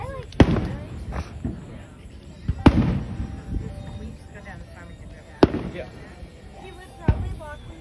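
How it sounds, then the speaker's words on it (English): Fireworks explode on the Fourth of July with several sharp, loud bangs spread irregularly across the scene, some near and cracking, amid crackle, background chatter and faint whistles. "hey, fireworks."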